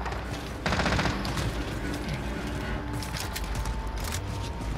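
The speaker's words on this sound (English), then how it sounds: "I can't control the recoil on this gun." Automatic gunfire in the video game Call of Duty: Modern Warfare, rapid loud bursts of shots with a short pause and repeated volleys, close up over faint game ambience.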